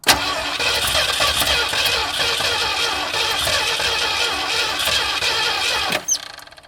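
A car engine with a cracked exhaust manifold cranks over and catches, running loud and close with a steady rough mid-pitched drone and squeal for about six seconds before cutting off abruptly.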